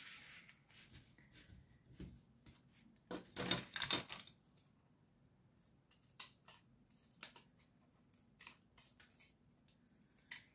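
Scissors cutting tape and paper for a handmade folio album: a few quiet close snips and soft papery rustles, with a louder burst of cutting near the middle, set against near silence.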